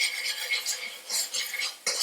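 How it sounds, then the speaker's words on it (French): A spatula scrapes around a saucepan in quick metallic strokes while rice and egg are stir-fried Cantonese style, close and clattering with a sharp knock near the end. "Là, je racle autour de ma casserole."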